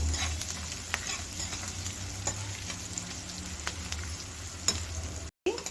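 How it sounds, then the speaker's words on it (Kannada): Small onions with turmeric powder fry in a pan, a steady soft sizzle with occasional stirring scrapes, moderately close and alone. "ಈಗ ಎಲ್ಲಾನು ಚೆನ್ನಾಗಿ ಫ್ರೈ ಆಗಿದೆ"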